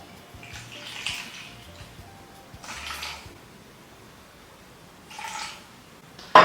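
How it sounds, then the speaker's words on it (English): Rum poured onto thick coffee concentrate in a home kitchen, heard as soft, quiet splashing bursts of liquid separated by pauses, with a sharp clink at the end. "I'm actually gonna just go ahead and pour the rum on top of the concentrate"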